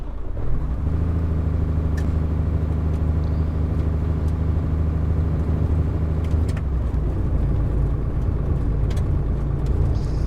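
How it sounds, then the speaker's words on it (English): A military truck in the Arma 3 Contact DLC drives along a road in a video game, its engine a steady loud rumble throughout with a brief shift in tone partway through. "now we're just gonna get back in the truck and finish driving to the burn pit here"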